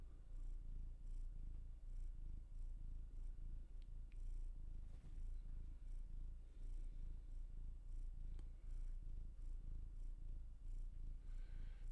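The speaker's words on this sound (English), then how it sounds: "The ginger purr monster." A ginger cat purrs steadily and close up, a continuous low rumbling rhythm that runs unbroken from start to finish with no talking over it.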